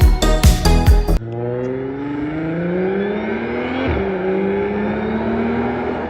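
A 2013 Audi S4 B8.5 engine blips sharply several times up close, then settles into a loud, steady rev that climbs slowly, dips briefly, and climbs again.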